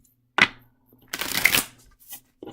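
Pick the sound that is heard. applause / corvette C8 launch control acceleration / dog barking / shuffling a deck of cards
shuffling a deck of cards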